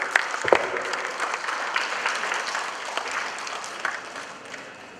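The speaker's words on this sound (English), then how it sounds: "please give a big applause for our speaker" Applause from a conference audience at the first day of SEARC V in Bali, a dense clatter of clapping sustained for about five seconds and tapering slightly toward the end.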